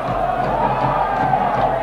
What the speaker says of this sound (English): And the local Comunicaciones fans applaud.